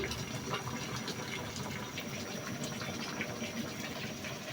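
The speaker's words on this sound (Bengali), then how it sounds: "একদম পানি ঝরায়া" A continuous rushing of water draining from cabbage, steady and fairly close, like liquid pouring and draining away without pause.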